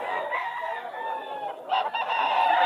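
White Hennie rooster crowing and clucking at a pet market in Bulacan, close and fairly loud, in two short phrases over about three seconds.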